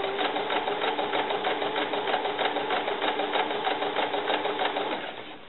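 A sewing machine runs steadily while stitching fabric for a doll cover-up, giving a rapid, even, close mechanical whir that carries without a break and then winds down near the end.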